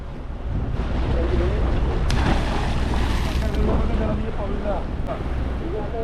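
A fishing boat arrives in a harbour as the anchor goes down, with water and wind rushing past the microphone and a voice faintly under the constant noise.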